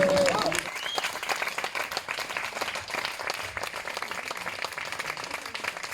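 An audience seated on straw bales outdoors, in front of a tree, applauds an open-air show. Dense, steady clapping carries on throughout, loud and close, with crowd noise mixed in.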